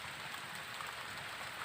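Light drizzle falling steadily outdoors at a fishing spot in Karang Tunggal village, Tenggarong Seberang, a soft continuous hiss of raindrops pattering on surfaces with no voices.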